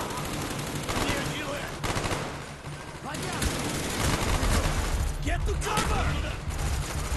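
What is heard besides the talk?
gunfire in the video game Call of Duty Black Ops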